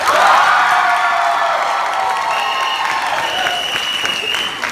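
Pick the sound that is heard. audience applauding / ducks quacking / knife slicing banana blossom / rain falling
audience applauding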